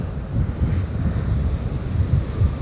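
Choppy waves roll and crash against the shore beside Britannia Pier in Great Yarmouth, a continuous low surging roar mixed with wind buffeting the microphone, no voices.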